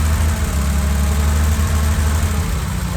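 Steady, loud idle of a 1970s BMW 635 CSi engine, a constant low rumble with mild vibration and no clear revving, heard alone without talk.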